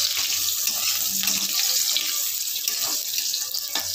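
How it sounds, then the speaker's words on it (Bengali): Slices of pointed gourd (potol) frying lightly in hot oil give a steady, close, bright sizzling hiss that holds evenly throughout, with no talking. "এবার পটলগুলোকে ভেজে নেব।"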